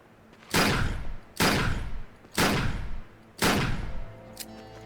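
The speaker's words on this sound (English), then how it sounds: "Let's try our 4-shooter here." Four heavy blasts from a 4-shooter gun in the video game Exoplanet First Contact, evenly spaced about a second apart, loud and close, each booming shot fading before the next, with no talk.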